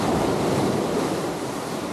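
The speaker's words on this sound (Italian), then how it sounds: "Aspettiamo queste due onde." Sea waves roll in toward a kayak, a steady broadband wash of surf with wind noise on the microphone and no voices.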